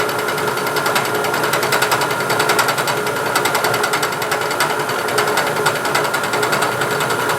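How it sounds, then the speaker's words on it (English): Milling machine climb milling the back side of a piece of steel stock, a loud, close, steady rapid chatter and buzzing cutting noise that runs without a break for the whole stretch, with no voices. "Now we're coming back the other side and climb milling on the back side"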